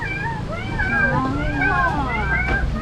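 A cat meows repeatedly, giving several rising and falling cries that come close together over a steady low rumble of wind and background noise, outdoors in Baler, Philippines.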